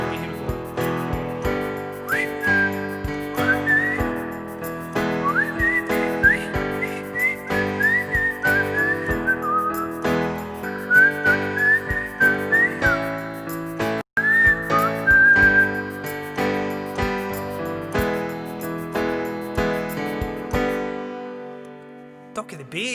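Someone whistles a song as a wavering solo melody over a steady instrumental backing track, with a brief cut near the middle before the music fades out at the end.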